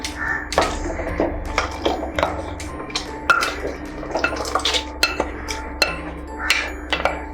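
Wet, squelchy plops of cooked mutton intestines land in a clay pot among sharp clinks and scrapes of a utensil against its side, irregular and close by.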